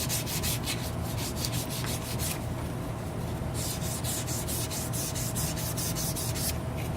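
Close, continuous rubbing as a chef knife handle is sanded by hand, quick back-and-forth strokes in steady rhythm with brief changes in texture.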